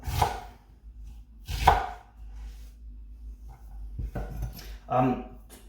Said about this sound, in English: Slice these onions up.